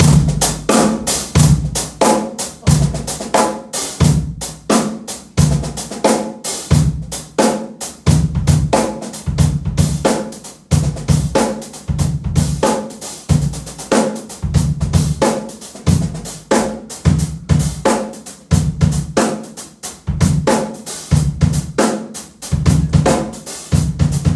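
A steady drum groove plays alone, with kick and snare hits spaced out by short gaps in a repeating, evenly paced pattern.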